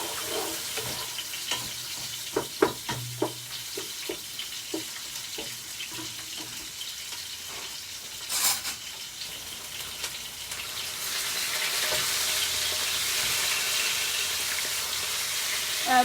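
Fish frying in a pan for a brinjal fish curry: scattered clicks and clatter at first, then a continuous broadband sizzle that swells and holds steady toward the end, mixed with a watery running sound.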